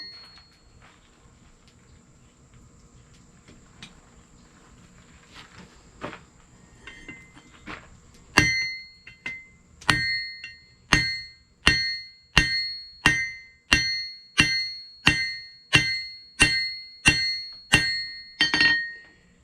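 Hammer on anvil forging a heated railroad spike into a bottle opener: after faint early taps comes a steady series of about fourteen loud, ringing metallic blows at a regular rhythm, close and with no talk.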